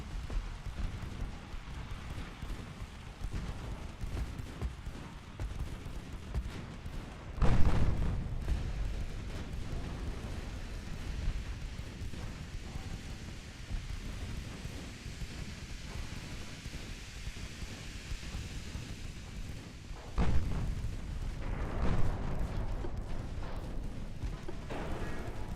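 Naval guns on battleships firing 13.7-inch shells in the video game Ultimate Admiral Dreadnoughts. Two heavy, booming blasts rise over a constant rumbling battle ambience, which continues between them.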